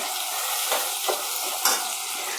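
Tomato and curry leaves fry in a pan for a tangy sundakkai vathal kuzhambu, giving a steady close sizzle broken by a few scraping stirs of a spoon, with no voices.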